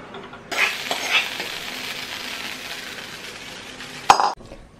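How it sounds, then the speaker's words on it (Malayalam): Hot tempering is poured over Udupi-style coconut chutney and bursts into a loud, steady sizzle that holds for several seconds, then ends in a sharp clink of a pan or spoon against the bowl. "ഇനി നമുക്ക് ഈ താളിച്ചത് ഇങ്ങോട്ടേക്ക് ഒഴിച്ചാൽ ചമ്മന്തി റെഡി ആയിട്ടോ"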